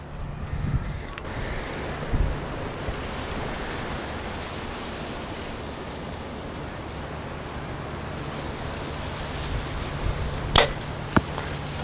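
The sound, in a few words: arrow shot from Backyard Bows Edge 320 bow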